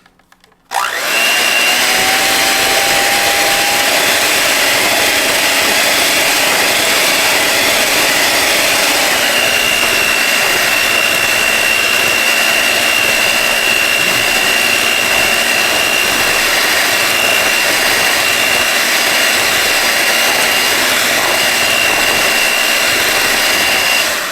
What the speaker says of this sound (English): this part is where we are going to take the mixer and we are going to mix this all up